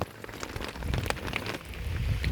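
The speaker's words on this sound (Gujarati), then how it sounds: "હવે વરસાદ થોડો ઘણો રહી ગયો છે" Rain patters steadily on a surface on farmland, a dense, even hiss of drops with a few louder splashes, and no voices.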